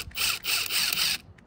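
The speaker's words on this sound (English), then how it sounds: "all you got to do is pull these Torx bolts out of here" A tool removes Torx bolts holding the third brake light on a Ford Super Duty truck, giving three loud, close bursts of rapid ratcheting, then a pause and a couple of faint clicks.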